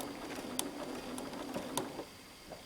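A sewing machine stitches quilt binding near a crease line, giving a steady, faint mechanical whir with a few sharp ticks as the stitches form. No voices are heard.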